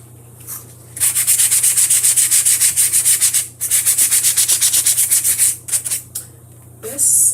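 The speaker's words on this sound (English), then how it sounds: "You could always give the pieces a little like sanding." Wooden craft pieces are sanded by hand in quick back-and-forth strokes, a close, loud rasping scrape repeated in rapid bursts with a few short pauses between runs.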